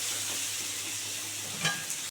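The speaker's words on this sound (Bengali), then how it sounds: "একটু ভালো করে ভেজে নেবো পেঁয়াজটা।" Chopped onions frying in oil in a pan for a mustard-paste fish curry, giving a steady close sizzling hiss throughout, with a brief louder stir partway through.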